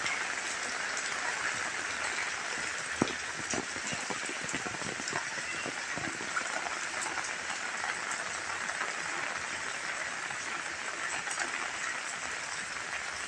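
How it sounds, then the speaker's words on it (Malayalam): Heavy monsoon rain pours down outside a two-storey house, a dense, continuous roar of falling water with scattered patters and splashes, steady and loud throughout. "എന്താ മഴ തന്നെയാണ്, ഭയങ്കര മഴയാണ്"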